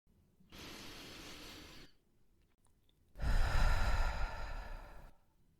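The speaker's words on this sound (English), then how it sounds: "just take a breath with me" Two deep breaths taken together during a calm close, a long audible inhale followed after a pause by a louder, fuller exhale, both near and breathy with no talking.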